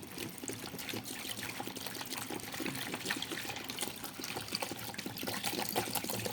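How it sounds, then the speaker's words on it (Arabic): Water pours from a 1.5 litre bottle into a homemade liquid tomato dish-soap mixture, a close, continuous splashing gush that runs steadily for several seconds with no talk. "هنحط بقى ازازه الميه اللي هي رتل ونص دي"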